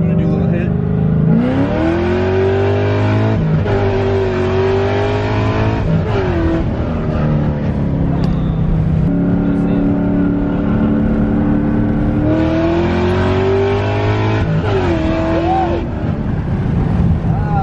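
A first-generation Cadillac CTS-V on new tires accelerates hard, its engine roaring loudly and rising through the gears in two long pulls with shifts between, recorded from inside the car while people talk.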